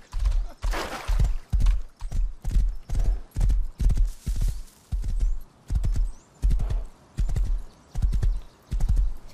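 Horse hooves galloping in the Rust survival video game, a steady rhythmic clip-clop of heavy thuds, close and loud, with a brief whinny and no talk over it.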